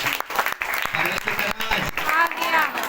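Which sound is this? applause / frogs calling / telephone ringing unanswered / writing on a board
applause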